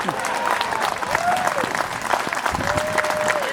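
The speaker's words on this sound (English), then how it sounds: "the second set of applause goes to young Miss Mabry" A crowd at a Memorial Day event claps in sustained applause, dense and fairly loud throughout, with some voices and cheers mixed in.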